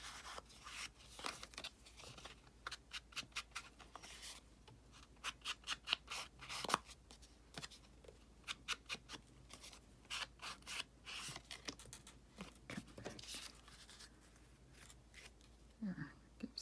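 Scissors trimming a paper lady tag for a bohemian craft project, many quick, crisp snips and small paper rustles in irregular clusters, close and quiet.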